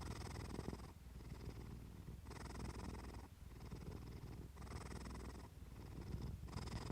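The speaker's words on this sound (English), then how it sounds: "the purr is constant in its message, a vibration that marks safety, self-possession, and trust" A cat purrs steadily and close up, the rumbling rising and falling in regular breathing cycles about a second apart, with nothing else heard.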